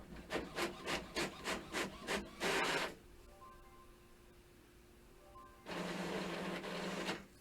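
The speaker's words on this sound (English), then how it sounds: "My printer is going to start going again." A printer runs in short rhythmic bursts of mechanical feeding, then pauses with a faint hum before starting again, moderately close and without speech.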